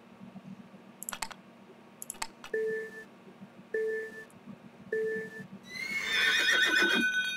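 Horse neighing in the Horse Haven video game, a drawn-out whinny rising at the end after a few clicks and three short identical electronic beeps in a row.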